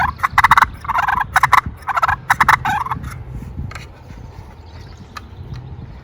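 Loud, rapid turkey gobbles and raspy purrs from a slide box game call imitate two wild turkeys fighting, in choppy bursts for three seconds, then softer scratching.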